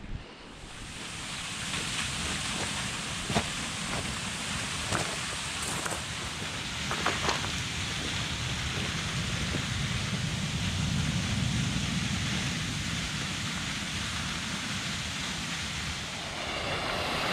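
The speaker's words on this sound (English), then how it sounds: "over there's a big waterfall." Big waterfall beside the coast path at Clovelly, swollen after a lot of recent rain, gives a steady broadband rushing roar, continuous and even throughout with no voices.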